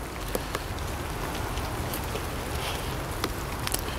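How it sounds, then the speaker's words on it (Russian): Steady rain patters on melting snow and ice in a park, a continuous hiss with occasional sharper drips, no voices. "Тут снег тает, дождь идет."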